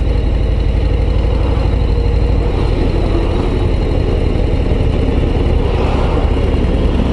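A Harley-Davidson Road Glide ST with its 117 long-stroke V-twin, ridden in fifth gear at about 1200 rpm, gives a loud, continuous low engine rumble throughout, mixed with wind noise.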